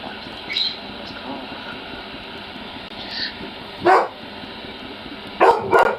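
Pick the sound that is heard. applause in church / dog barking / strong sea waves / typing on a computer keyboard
dog barking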